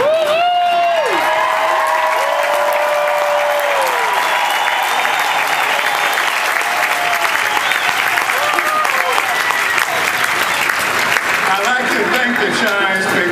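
A large crowd at a San Francisco Giants ballpark applauds and cheers steadily and loudly for an 80th birthday celebration, with whistles and a voice over the PA rising above the dense clapping.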